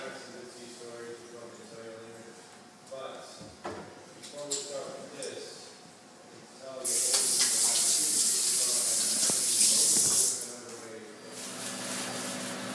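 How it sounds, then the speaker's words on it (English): Water gushes from a tap in a loud, close burst lasting a few seconds, preceded by quieter handling noises and clicks. "Make sure to turn off the water when you're not using it."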